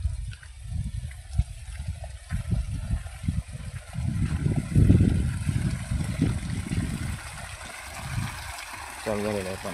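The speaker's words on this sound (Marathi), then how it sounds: "चालू झालेलं आहे पाणी." Irrigation water runs steadily into furrows of a farm field, a low, uneven rushing and gurgling that swells and eases, with people talking over it.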